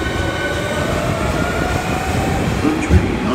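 An Osaka Metro Sakaisuji Line subway train rumbles steadily alongside platform 2, with a constant mechanical hum and a faint squeal of wheels near the end.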